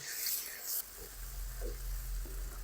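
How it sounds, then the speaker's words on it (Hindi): Green chili and tomato paste is stirred into onions frying in oil for aloo baingan, a soft hiss of frying beneath a few scraping stir strokes. "चलें अच्छी तरह मिक्स कर देंगे"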